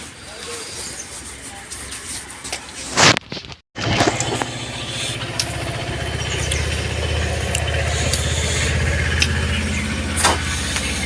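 A motorbike engine that had gone cold starts with a brief loud burst and a short gap, then settles into a steady, fairly close idle. Outdoor ambience carries over the engine throughout.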